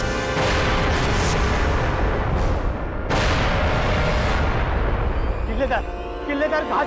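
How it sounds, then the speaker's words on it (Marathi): Cannon fire from an attacking army pounds a fort in a historical drama: dense, continuous booming roar that swells and dips over several seconds, with no one speaking over it. "दिलेर खानानं तोफांचा मारा केलाय"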